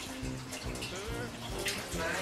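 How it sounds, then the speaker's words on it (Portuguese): Water is poured into a pot while glass jars are being prepared for boiling to make culture media. It makes a steady splashing pour under ongoing conversation. "Vou colocar um pouquinho de água."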